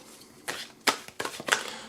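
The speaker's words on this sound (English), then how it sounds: "Shuffle, shuffle, shuffle." Archangel Oracle tarot deck being shuffled by hand, four or five quick riffling bursts of card flutter, close and crisp, with brief pauses between them.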